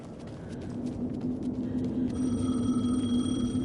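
A telephone rings in the game Alan Wake 2, its tonal bell entering partway through over a busy, steady background of clopping and rumble, with no talking.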